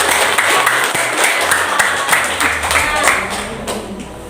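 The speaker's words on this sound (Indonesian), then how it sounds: "Oke, berikan tepuk tangan." Classroom applause from students during a physics lesson on buoyancy, loud scattered clapping with children's voices and chatter mixed in, tapering off slightly toward the end.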